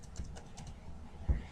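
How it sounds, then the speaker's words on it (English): Quick taps on a computer keyboard while entering a zip code into patient management software, several light clicks spaced irregularly and ending in a firmer key hit, close and quiet with no talking. "Simply type in the zip code, hit your tab key"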